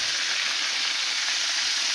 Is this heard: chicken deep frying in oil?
yes